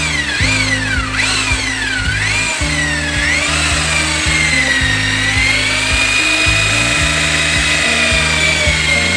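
An electric drill fitted with a mixing paddle beats adhesive mortar for Ytong blocks in a bucket, a loud close whining motor that shifts pitch as it bogs in the thick mix, with rhythmic rumbling scrapes of the paddle and no talking.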